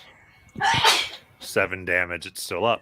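A single sharp sneeze breaks out indoors during a tabletop game, close and loud, followed by people talking.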